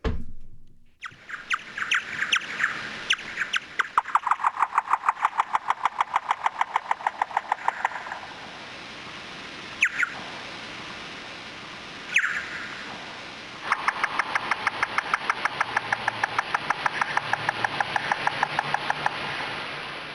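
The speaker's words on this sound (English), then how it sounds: "that is the bat echolocating" Bat echolocation calls come through as rapid trains of dry clicks and ticks in quick bursts, with short pauses between, and the recording is otherwise quiet.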